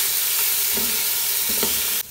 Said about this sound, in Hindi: अब हमारा लहसुन हो चुका है, हम अपना चिकन शामिल करते हैं।